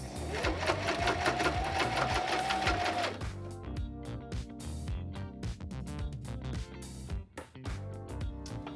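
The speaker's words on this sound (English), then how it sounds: "we're gonna sew forward, sew backwards, sew forward again, and go all the way across" A sewing machine stitches combs onto a lace front wig. The motor hums in one close, steady run for about three seconds, then sews forward and backward in short, rapid stop-start bursts. No one speaks.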